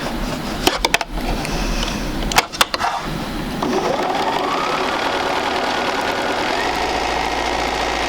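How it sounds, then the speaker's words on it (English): A sewing machine stitches quilt pieces together, a steady close mechanical whir running through most of the clip after a few brief clicks and bumps at the start. "we'll go ahead and sew this one, keeping those edges together."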